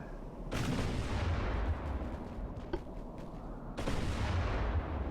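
Naval gunfire from warships engaging destroyers in Ultimate Admiral: Dreadnoughts, two heavy cannon blasts a few seconds apart, each a loud broadband boom decaying into low rumbling, with a faint crack between them.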